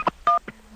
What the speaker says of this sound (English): He's trying to hang the phone up.